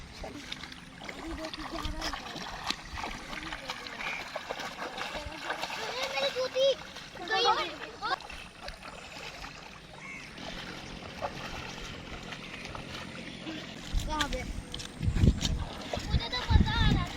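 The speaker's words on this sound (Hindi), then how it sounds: "ये जो बारिश का पानी इधर चल रहा है" Rainwater splashes and flows along a village street with sloshing movement, while voices talk nearby, including a child.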